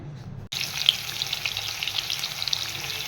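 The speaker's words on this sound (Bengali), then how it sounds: "দেখো আমি মাছটা ভাজছি" Fish sizzles steadily in hot oil in a home kitchen, a loud continuous crackle with popping spatters that starts abruptly after a brief quiet moment and carries on without talk.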